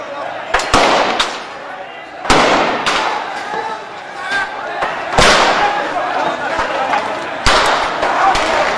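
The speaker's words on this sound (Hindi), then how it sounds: "फायरिंग चालू है।" Gunfire during a riot in Gujarat, with sharp loud bangs at irregular intervals cracking over a constant roar of crowd noise and shouting voices, close and harsh.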